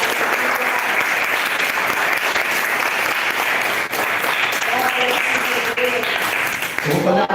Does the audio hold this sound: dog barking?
no